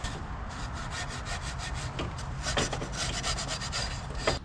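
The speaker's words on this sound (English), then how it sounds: "take an SOS pad, scrape this down, SOS pad, scrape that down" An SOS pad scrapes old gasket material off a Tao Tao 250 YFZ ATV engine, giving a steady, faint, gritty rasp with quick rhythmic back-and-forth strokes and no voices.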